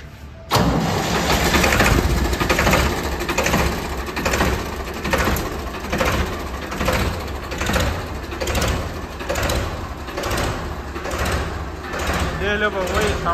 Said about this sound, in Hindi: तो इसका साउंड और दिखाऊंगा आपने कैसा नज़र आ रहा है स्टार्ट होने बाद